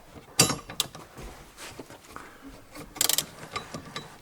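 Sharp metallic clicks and a brief ratcheting burst from a 10mm wrench loosening a bolt on the 12V battery of a Toyota Prius XW20, close and isolated against a quiet background.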